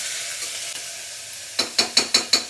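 Chopped tomatoes and garlic tipped into a sizzling pan of bitter gourd curry, a steady frying hiss followed by five sharp, evenly spaced stirring or tossing hits near the end.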